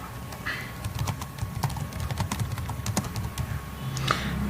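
Rapid, uneven keystrokes on a computer keyboard while a short text is entered into an ABAP program in SAP, close and moderately loud, with a low steady background hum underneath.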